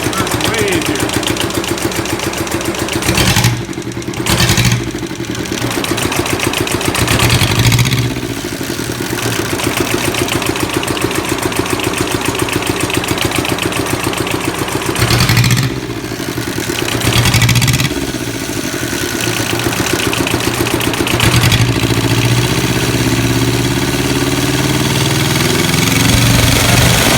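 The diesel engine of a home-built motorcycle, started with glow plugs and a crank wire, runs loud and close with a rough rapid knocking idle that dips briefly several times.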